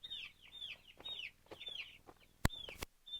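Young chickens cluck and peep repeatedly at close range, with a few sharp knocks and scratching noises between the calls.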